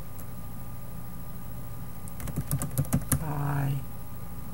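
A short burst of keystrokes on a computer keyboard, several quick clicks in an uneven rhythm heard close up over a low steady hum, followed by a brief whir.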